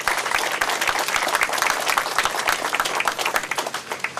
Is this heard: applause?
yes